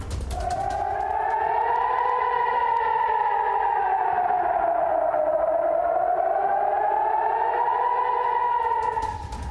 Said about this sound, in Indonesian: Pasca serangan, sirene tanda bahaya berbunyi hampir di seluruh wilayah Israel, termasuk di ibu kota Tel Aviv.